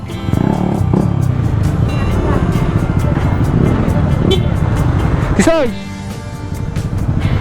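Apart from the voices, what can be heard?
Yamaha NMAX V2 2021 scooter engine with open pipe exhaust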